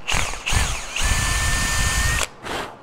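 A power drill with a half-inch bit runs in reverse against wood, whirring in loud bursts that rise and fall, one long sustained run in the middle, followed by a short final spin, close up.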